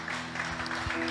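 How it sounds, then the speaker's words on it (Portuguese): Church congregation applauding during a worship service, a steady broadband wash of clapping filling the whole moment without pause, with faint voices mixed underneath. "Sente-se e dê um aplauso bem gostoso para Jesus."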